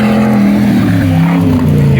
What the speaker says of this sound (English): bro's over there just sitting over there revving